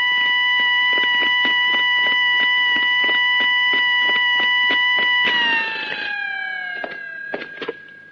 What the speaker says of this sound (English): Sorry about the alarm going off.